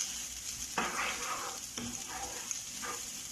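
Garlic sizzling in a frying pan for a fish-poaching sauce, a steady crackle with three bursts of louder hiss as pieces are stirred, fairly quiet and close.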